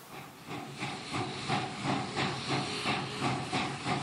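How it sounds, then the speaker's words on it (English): Steady steam hiss with a faint rhythmic pulsing, like a working steam locomotive nearby, continuous and fairly loud with no talking. "See the steam coming off me."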